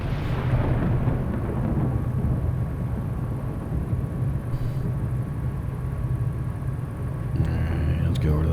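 Rolling thunder from an active thunderstorm in a flight simulator game, heard after landing on a runway: a low, continuous rumble with steady background noise and a couple of brief cracks toward the end.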